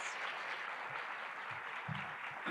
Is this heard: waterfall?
no